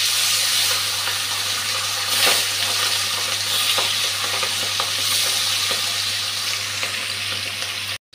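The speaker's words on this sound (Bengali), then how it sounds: "নুন হলুদ মেখে মাছটা ভেজে নিচ্ছি এখন" Fish coated in salt and turmeric fries in hot oil, giving a steady, dense sizzle with a low hum beneath and a few sharper crackles, close and continuous until it cuts off abruptly.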